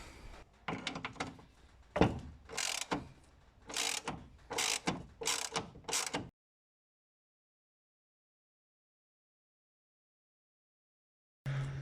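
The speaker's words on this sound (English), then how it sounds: "So let's quickly loosen this bolt as well." A ratchet works a shock bolt loose on a Ford Fiesta ST180, several close bursts of rapid clicking over about six seconds, then silence before a short final burst.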